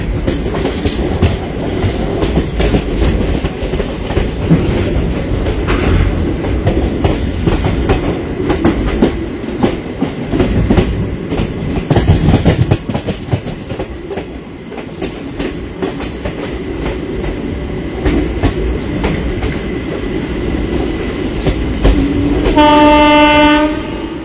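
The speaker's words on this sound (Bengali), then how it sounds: "দারুণ সাউন্ড ভালসারের WAG 9HC-র।" An Indian Railways train hauled by a Valsad-shed WAG-9HC electric locomotive rumbles along with steady wheel clatter, the Maa Tara Express between Sealdah and Rampurhat, and near the end the locomotive blasts a loud, sustained horn.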